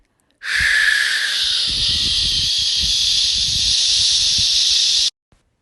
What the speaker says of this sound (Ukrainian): Це змія. Вона шипить.